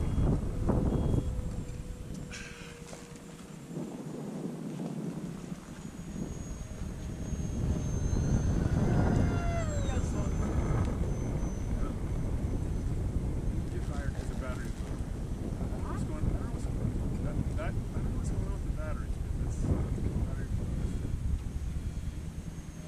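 A Durafly EFXtra Racer RC plane flying at a field, its electric motor whining faintly in the distance, swelling and fading on passes under heavy wind buffeting on the microphone and some talk.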